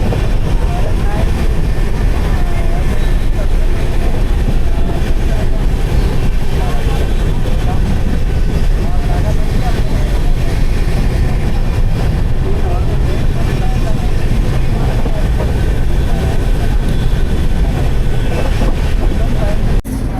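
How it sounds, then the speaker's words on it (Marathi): A train running and pulling into Mathura Junction, a dense, loud, continuous rumble of wheels and carriage noise, with a voice faintly under it. "ट्रेन आपली माझं फेवरेट स्टेशनवर पोहोचलेली आहे, मथुरा जंक्शन"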